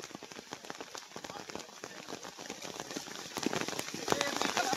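Rain falling in a yard near a pond, a soft steady patter of drops that grows slightly heavier, with faint voices in the background.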